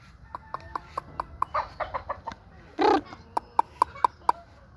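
Chickens in a poultry pen at the Piong Game Farm, a backyard gamefowl farm, with a steady series of short, sharp clucks close by and one louder squawk midway.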